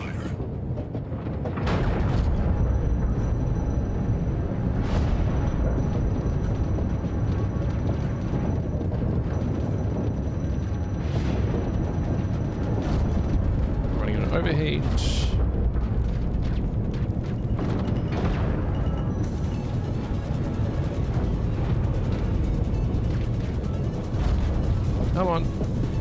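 Repeated heavy booms and crackling impacts as spaceship shields take fire in Star Citizen, a dense, loud barrage running continuously with sharp bursts standing out, alongside talk.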